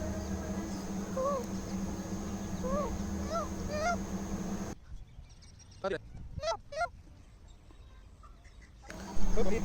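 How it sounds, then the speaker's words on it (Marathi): Several honking, rising peacock calls ring out in the grounds of the Red Fort, repeated in short bursts over a steady outdoor background, followed by a quieter stretch with scattered clicks and a few more calls. "मोरांची पण आवाज येत होते खूप सारे."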